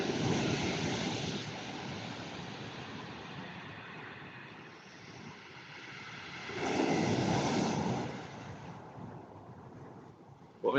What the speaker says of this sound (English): we've got massive waves out there